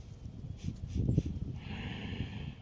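A dinosaur, a Tyrannosaurus in a video game, takes a few short, close sniffs of the air, breathy snorts rising and fading over a low background rumble.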